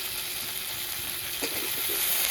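Bottle gourd pieces frying in a pan with tomato, potato and onion, a steady close sizzle with a few soft stirring scrapes near the end.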